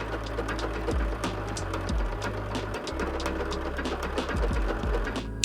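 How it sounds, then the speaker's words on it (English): A sewing machine stitches across the top of a zipper purse, running steadily with a low, close mechanical hum and a quick repetitive needle chatter, the motor easing off briefly a few times. "So I'm just going to stitch across the top here"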